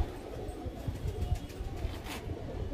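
Two pigeons kept in a cage cell of a high-flying pigeon loft, soft low cooing faintly heard over a murmuring background.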